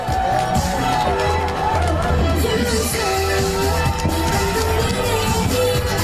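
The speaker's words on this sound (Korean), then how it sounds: "힘찬 박수 부탁드립니다." At a presidential campaign rally in Sinjeong Market, Nam-gu, Ulsan, a dense crowd claps and cheers loudly and steadily, with chanting and voices mixed into the roar.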